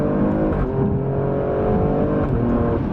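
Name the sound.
Alfa Romeo Stelvio Quadrifoglio accelerating onto highway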